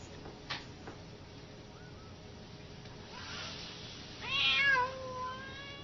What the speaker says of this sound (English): When he placed a cat in the puzzle box for the first time